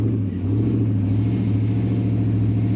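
A Ford Raptor engine roars at steady high revs with brake and throttle held together to spin the wheels on sand and rock, a loud, continuous, close-up drone with no break.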